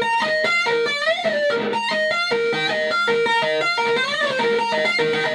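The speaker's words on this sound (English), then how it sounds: "Now we're going to add some distortion and speed it up" An electric guitar riff played fast with distortion, a dense, driving run of overdriven notes and slurred bends that continues unbroken at steady loudness, with no voices.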